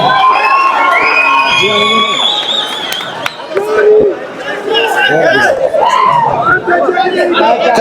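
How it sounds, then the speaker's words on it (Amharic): A lively crowd cheers, whoops and chatters loudly throughout as a fight winner is announced new champion, with excited shouting voices layered over one another. "the winner Johnny Jiu-Jitsu አንዴ ሞቃለ ጭብጨባ"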